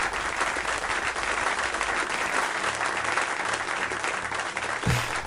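A standing audience applauds loudly and continuously, a dense wash of clapping that holds steady for several seconds before a brief bump near the end.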